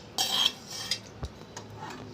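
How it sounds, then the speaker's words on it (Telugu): A metal spoon clinks against a bowl while tempering is stirred into cucumber chutney, several sharp scraping taps in quick succession and then softer knocks, close and alone. "ఇలా తాలింపు వేసి మొత్తం కలిపేసుకోవాలి."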